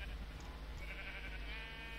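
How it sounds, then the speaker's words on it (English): Sheep bleating in the Minecraft video game, faint short bleats over a steady low background hum. "Oh, so many sheep."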